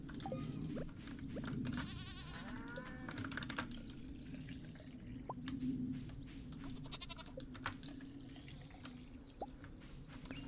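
Goats bleat in the Stardew Valley video game, faint and repeated over soft background game ambience, with clicky computer keyboard typing throughout.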